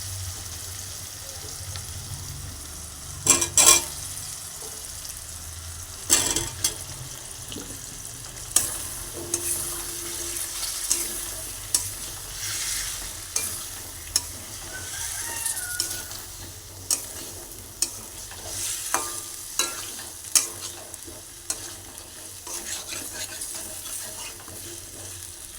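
Potato pieces fry and sizzle in spiced masala of ginger, onion and tomato paste, with repeated stirring scrapes and clacks of a spoon against the pan, a steady close sizzle punctuated by sharp knocks.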